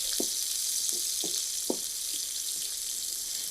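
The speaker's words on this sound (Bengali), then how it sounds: "ওই তেলটাতে আমি পেঁয়াজ দিয়ে দিচ্ছি।" Two tablespoons of chopped onion go into hot oil in a home kitchen for a fish masala curry, giving a steady close sizzle broken by a few light clinks and taps.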